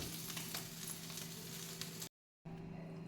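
Marinated chicken fries in a pan with a steady, dense sizzle under a low hum. It runs continuously, cuts to silence for a moment, then resumes more quietly.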